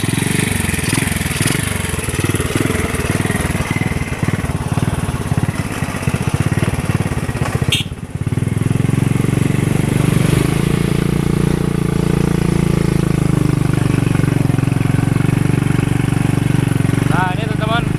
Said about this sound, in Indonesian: Ternyata motor saya ini masih layak naik ke ketinggian teman-teman